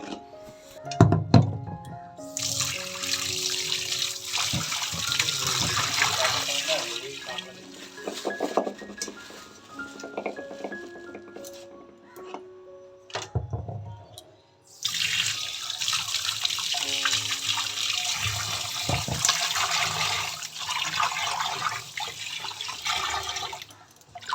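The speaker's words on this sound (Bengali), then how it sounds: "তো চলো একে একে মাছগুলো ধোবো" Fish being washed by hand under a running kitchen tap, with water rushing into a sink and dishes and metal utensils clinking, in two long bursts of flow separated by a brief pause, while a voice talks faintly now and then.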